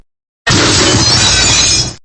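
A glass roof shatters in one loud, dense crash of breaking glass that lasts about a second and a half, then cuts off abruptly, with a brief clink right at the end.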